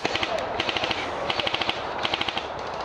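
Airsoft guns fire rapid bursts of sharp, clicking shots outdoors during an airsoft game, in several quick volleys with short pauses between them and no talking.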